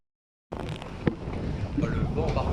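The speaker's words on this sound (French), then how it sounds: "Oh, le vent par contre." Wind rushes over a cruise boat at sea off Corsica, a steady broadband buffeting hiss that starts abruptly and carries on with low rumble and occasional faint sounds in the background.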